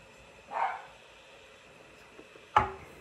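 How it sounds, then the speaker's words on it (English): A dog barks twice at a distance, one muffled woof followed two seconds later by a sharper, louder bark, over quiet background. "If you hear that dog, that's my dog."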